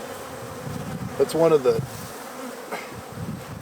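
Russian honey bees buzz steadily at the hive, a close, dense hum with individual bees passing by. A voice briefly speaks over it.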